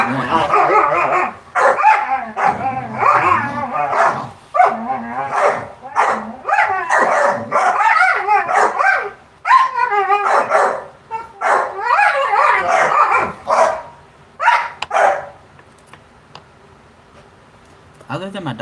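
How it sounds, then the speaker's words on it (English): A dog barks and yips excitedly in repeated bursts, loud and close, while a person talks over and between the barks. "Other than my dog's going crazy."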